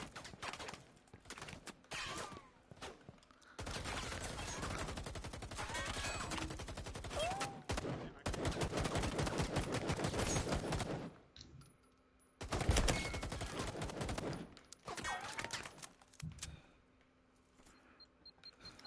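Rapid bursts of automatic gunfire crackle through a multiplayer shooter match, dense volleys alternating with short pauses, loud and close, with faint in-game chatter underneath.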